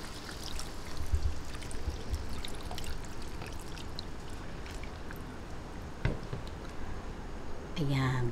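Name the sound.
pouring water onto pork leg in pot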